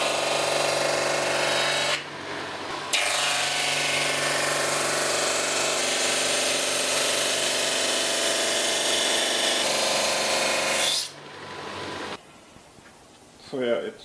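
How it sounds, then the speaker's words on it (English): A drum sander grinds down a Sonowood guitar bridge. A loud, steady, close whine and rasp lasts about nine seconds, then cuts out and leaves brief quieter handling and rubbing noises. "I'm gonna use my drum sander to sand this now"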